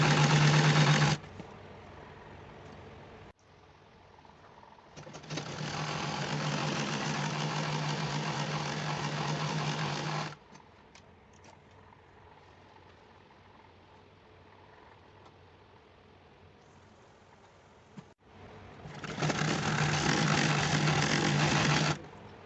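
A sewing machine stitches a palazzo in three steady, loud runs of rapid motor whirring and needle clatter, separated by quieter pauses with faint handling sounds.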